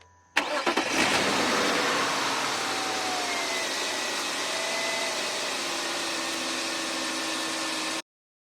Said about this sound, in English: Hopefully this will allow the car to start up nice without any issues.